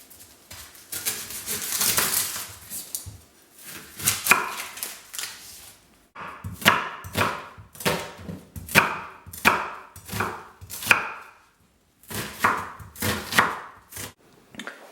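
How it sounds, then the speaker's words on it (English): A knife chops an onion on a cutting board in bursts of quick, steady strokes, close and fairly loud, with short pauses between runs. "So I've chopped my onion up"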